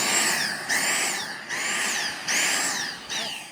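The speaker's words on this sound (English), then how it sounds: "Time to empty the vacuum." Household vacuum cleaner running in repeated bursts, a whining motor tone that rises and dips with each pass, close and fairly loud with brief pauses between strokes.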